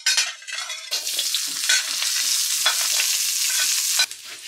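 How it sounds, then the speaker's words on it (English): Three shallots fry in a mix of oil and mustard oil for Mauritian achard legumes, a loud, bright, close sizzle and hiss, with a few stirring scrapes and a sharp crackle where they first hit the oil. "In here we've got 4 tablespoons of oil and 2 tablespoons of mustard oil. Throw in the 3 shallots that we've got."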